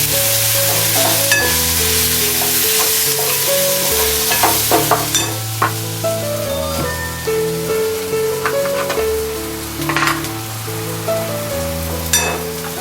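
Onion and tomato sautéing with red chilli powder and garam masala for a dhaba-style egg masala, giving a steady sizzle with stirring scrapes over a backdrop of tonal music.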